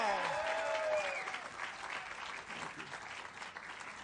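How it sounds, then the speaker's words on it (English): An audience at an awards ceremony gives a sustained round of applause, dense clapping that rings on evenly with brief whoops and voices at the start. "let's give him a round of applause"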